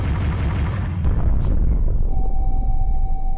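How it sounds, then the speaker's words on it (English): A turret blows apart in the video game Owlboy: a loud, dense explosive burst with crackling debris, followed by a steady high electronic tone ringing on after the blast. "Ah, oh, the turret is totally busted!"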